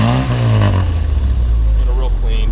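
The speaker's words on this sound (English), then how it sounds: "Rev it up a little bit." The engine of a 1964 Austin Mini Cooper revs up loud and close, a low steady drone that swells and then settles. A voice talks over it near the end.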